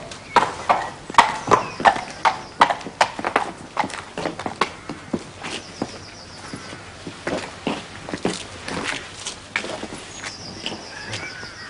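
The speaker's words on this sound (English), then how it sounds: "Bring out Plymouth Rock. Intermediate eventer, this." A horse, an intermediate eventer, is led out with steady clip-clop hoofbeats on a hard surface, close and clear, with a brief whinny-like note and no talking.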